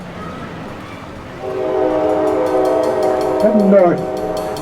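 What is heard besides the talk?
Amtrak train passing by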